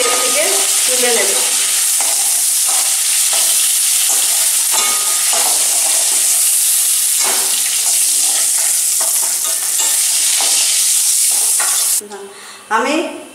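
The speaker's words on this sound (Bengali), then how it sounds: "আমি গরম তেলে এবার ফোড়নগুলো দিয়ে দিলাম।" Dried red chillies, a bay leaf and small cardamoms sizzling in hot oil in a home kitchen, a loud continuous close-up crackle with occasional utensil taps, easing off near the end.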